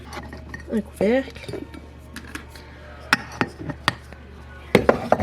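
A plastic cup lid for an iced coffee is picked up and handled, giving a few light clicks and taps with a brief rustle in a quiet kitchen, along with some faint rattling of glass and utensils.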